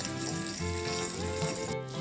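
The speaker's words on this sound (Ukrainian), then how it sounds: "Салко вже починає шкварчати те, що нам потрібно." Pork fat sizzling on a sadj, a cast-iron pan, over an open wood fire for a Cossack-style breakfast; a steady, close crackling fry with no talk.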